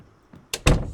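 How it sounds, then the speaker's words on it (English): Knocking on a door in the video game Project Zomboid: two heavy thuds, the second louder and fuller, with no talk. "Someone's knocking at the door."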